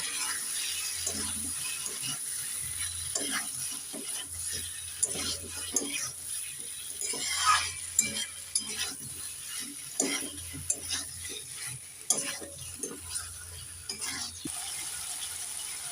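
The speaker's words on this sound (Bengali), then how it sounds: "এবার নেড়ে চেড়ে মশলার সাথে আলু আর ফুলকপিটাকে দু মিনিট কষে নেব" Fried cauliflower and potatoes are stirred with spices in a pan, a utensil scraping and clinking in uneven strokes over a continuous faint sizzle.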